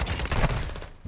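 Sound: gunfire from a video game gun

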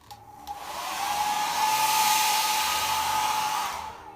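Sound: hair dryer

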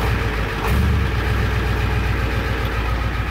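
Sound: 1984 Ford F-250 7.3 IDI diesel idling after cold start

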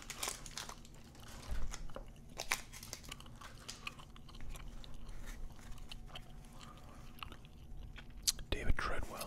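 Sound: gum chewing

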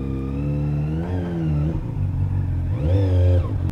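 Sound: Honda CBR600RR motorcycle engine revving

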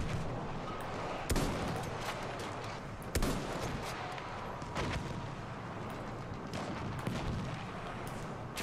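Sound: artillery fire in Battlefield 1 video game

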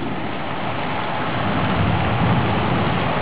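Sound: heavy rain and thunderstorm

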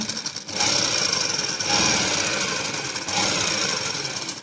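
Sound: sewing machine stitching a Pakistani sleeve

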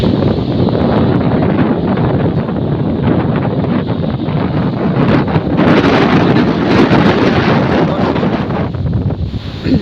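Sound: strong wind on a Padma river island

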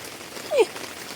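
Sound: rain falling in a yard

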